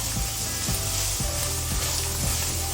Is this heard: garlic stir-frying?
yes